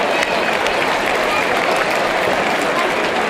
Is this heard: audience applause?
yes